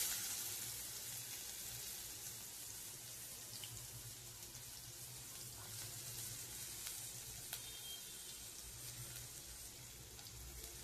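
Onions dropped into hot oil with asafoetida and cumin in a pan, giving a steady, fairly quiet sizzle and hiss that runs throughout with faint clicks and no talking.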